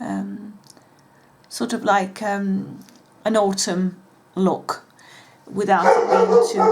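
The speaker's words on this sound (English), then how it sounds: "that's my dog barking" A pet dog barks a few times indoors in short yips, partly under someone talking close to the mic.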